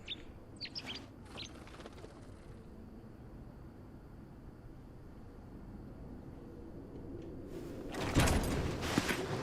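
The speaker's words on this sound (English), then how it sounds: "Bird." A bird chirps in the video game Cyberpunk 2077: a few quick, high tweets in the first seconds over a steady ambient hum, followed by a louder rush of noise near the end.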